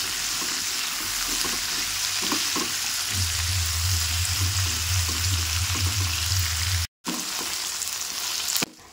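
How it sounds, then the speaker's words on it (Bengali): Okra fries in a pan with a loud, continuous close-up sizzle and crackle, a low steady hum joining partway through and a brief cut-out near the end. "ঢ্যাঁড়স ভাজতেও কিন্তু আমাদের একদমই বেশি সময় লাগবে না, মাত্র 5 থেকে 6 মিনিটের মধ্যে ঢ্যাঁড়সগুলো দেখুন একদম কিন্তু কালার পাল্টে"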